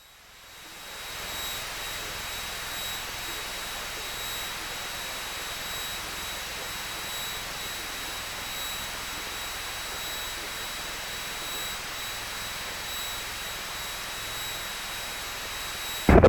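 A Piper Cherokee 180 light aircraft engine drones steadily at cruise, a loud, unbroken cockpit roar with a faint high whine, lasting throughout without talk.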